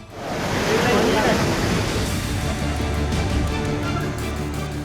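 Rushing floodwater from rivers swollen by heavy rain in the Uttarakhand floods, a steady loud broadband roar of churning water that fills the whole clip without letup.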